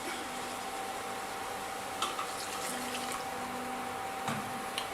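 White wine goes into a flour roux cooking in a pan, making a steady sizzling, bubbling hiss that holds at an even level with a few slightly louder spits.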